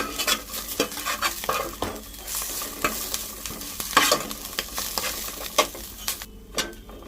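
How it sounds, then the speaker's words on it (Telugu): Leaves frying slowly over low heat in a pan, a soft continuous sizzle with repeated scraping and stirring strokes of a spatula at irregular intervals, close and with no voices. "కొంచెం టైం తీసుకుంటుందంటే మెల్లగా ఇట్లా ఫ్రై చేసుకోవాలి"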